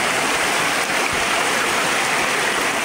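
Floodwater from heavy rain rushes through the streets and low areas of Dera Ghazi Khan, Pakistan, a loud, continuous roar of flowing water without any talk.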